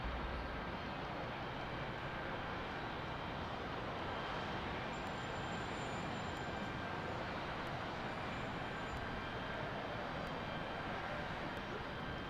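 Steady broadband roar of an AT-2300 airplane engine idling and building before takeoff at Salt Lake City airport, loud and constant throughout with no talk.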